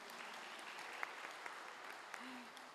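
Scattered applause from a seminar audience, steady and fairly even across the whole stretch, with a few sharper claps standing out and a faint voice briefly underneath.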